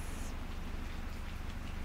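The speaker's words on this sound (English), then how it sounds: "We have already a beautiful sound of the rain." Rain falls in a steady, soft wash of noise with a low rumble beneath, heard alone and close throughout the short stretch.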